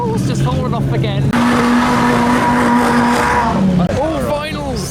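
A drift car slides with sustained tire squeal over a revving, roaring engine, loud and close, shifting in pitch, while voices talk excitedly over it.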